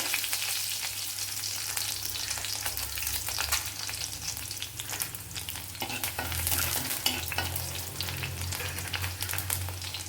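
Ginger and garlic frying in a pan for an okra and pumpkin curry, a loud continuous sizzle with scraping stirs throughout, no talk.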